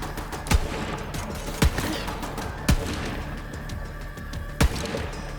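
Four sharp, separate gunshots ring out in Borderlands 3 at uneven intervals over a constant background of combat ambience, with no talking.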